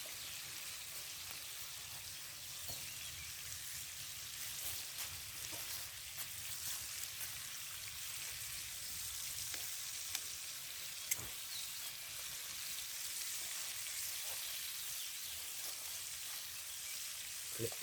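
Mushrooms fry in a pan alongside wild boar meat outdoors in a back garden, giving a steady low hiss of sizzling with occasional small pops and soft clicks, fairly faint and continuous.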